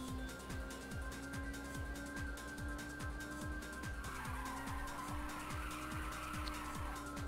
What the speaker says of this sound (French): Voyez que le régime moteur monte aussi hein, quand on est en dérapage